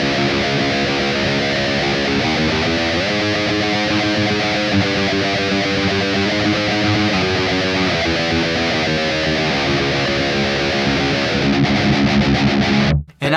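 Distorted electric guitar plays a heavy riff, a dense, sustained wall of chugging chords and shifting notes running loud and steady throughout, cutting off abruptly at the end.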